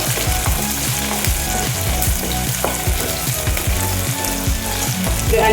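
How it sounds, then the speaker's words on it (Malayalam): Onions and green chillies fry steadily in a pan, a continuous loud sizzle with occasional stirring clatter and no talking. "ഉള്ളി ഒന്ന് നല്ലപോലെ പാടി വരട്ടെ. ഉള്ളി കളർ മാറി വന്നിട്ടുണ്ട്. ഇനി പച്ചമുളക്, ഒരു 4 പച്ചമുളകുണ്ട് ഇട്ടു. പച്ചമുളക് തന്നെ മാടി വരട്ടെ."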